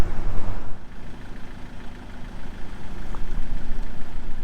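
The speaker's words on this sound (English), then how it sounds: "Oh, and a big snow truck." A large snow truck engine rumbles low and steady on a cold Spanish mountain road, an idling drone filling the whole stretch at moderate volume with no talk over it.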